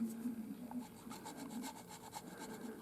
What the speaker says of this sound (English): I'm going to show you just how easily this is sanded down. So I'm just using my file set here.